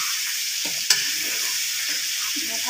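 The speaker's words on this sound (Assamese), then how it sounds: "এয়া মই লৰাই দিছোঁ" Potatoes frying in a pan for mutton curry hiss with a bright, steady sizzle while being stirred, with one sharp utensil clink partway through.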